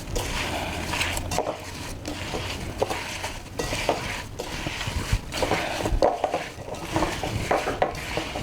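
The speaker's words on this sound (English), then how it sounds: "You basically want your apples to be completely coated with your dry ingredients. So just dump everybody in here. And a quick little mix." Apples get tossed with dry ingredients in a bowl, a quick run of close scraping, clinking and soft rustling strokes against the bowl, with no voice over it.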